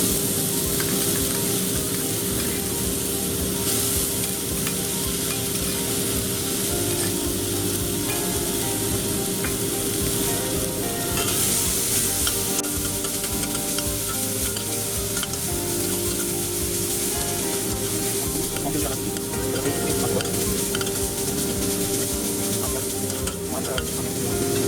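Onion paste sizzling and frying in a pan for chicken curry, a loud continuous crackle and hiss with steady stirring scrapes, close and constant throughout with no talk.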